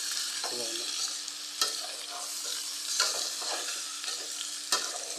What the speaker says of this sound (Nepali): तपाईँहरूले देख्न सक्नुहुन्छ चिकन चाहिँ फ्राई हुन्छ।